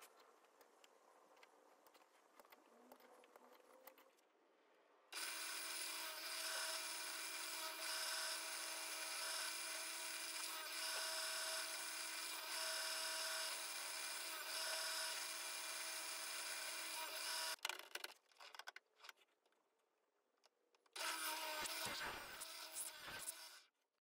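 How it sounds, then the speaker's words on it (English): A power drill drives screws through a faceplate into a bog yew blank for a lathe bowl, running in a long loud whine for about twelve seconds, then a few shorter bursts after quieter pauses. "I can now drill those screws in."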